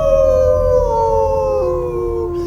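Dogs howl in a radio drama sound effect meant to pass for wolves: a loud, long, sustained howl that slowly falls in pitch, with layered voices blending together and no speech.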